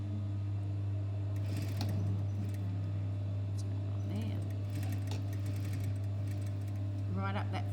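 A sewing machine hums steadily up close, stitching continuously right next to zipper teeth on a fly front, with a low motor drone and light clicks, a voice talking over it.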